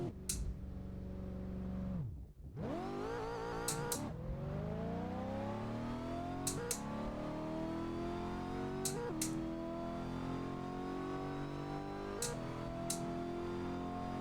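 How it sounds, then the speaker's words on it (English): A racing car in a video game sim straight drag race, with quick shifts: the engine revs hard and climbs in pitch through several gears, each shift marked by a brief dip and click, loud and close with no talk. "So we're just going to do a straight drag race."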